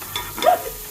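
Garlic frying in oil, stirred slowly, gives a soft, brief sizzle with a gentle scrape of the spoon in the middle.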